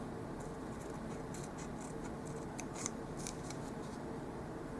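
Scissors snip through paper along red dotted lines for a doll-size grocery kit, a quick series of crisp close cuts over a steady background hiss.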